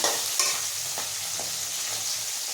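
Snake gourd fries in a pan with spices, giving a steady, moderate sizzle with a couple of soft stirring knocks near the start and no talking.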